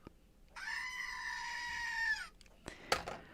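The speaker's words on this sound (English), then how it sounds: "when I squeeze this little prop, it screams" A squeezed screaming-goat squeeze toy lets out one long, bleating shriek lasting nearly two seconds, followed by a few sharp handling clicks.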